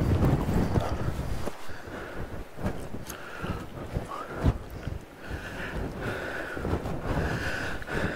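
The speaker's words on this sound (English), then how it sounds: "Getting a bit windy, so I'm just having a lean in" Wind gusts against a mountain cliff face on Jack's Rake scramble, a steady rushing buffet across the whole stretch with microphone rumble and a sharper gust near the middle, no speech.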